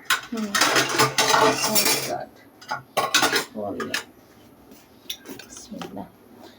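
Metal spoon scooping a homemade special spice mix, clinking and scraping against dishes in a home kitchen, in a few bursts of clatter with quiet talk between them.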